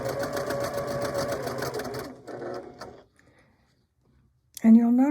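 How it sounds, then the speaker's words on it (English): A sewing machine runs in quick rhythmic bursts while stitching a quilt block with a half circle inset. The machine stops partway through, there is a brief pause, and then a person begins talking. "I'm going to once again just start keeping the edges together and stitching without any easing"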